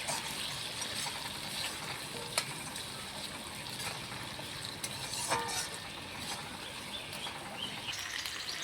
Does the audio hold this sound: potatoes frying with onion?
yes